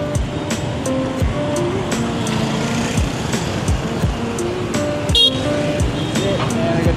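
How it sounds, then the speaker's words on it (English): Busy street traffic in Ho Chi Minh City rushes past close by, a dense wash of motorbike and car engines with repeated short horn toots scattered throughout. "Which means we need to cross the traffic again."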